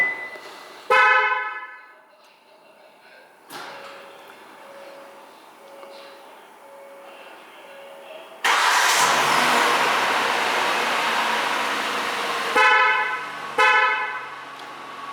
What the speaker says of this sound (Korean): 시동이 걸리면 크락션 두 번이 나고 20분간 시동이 유지되고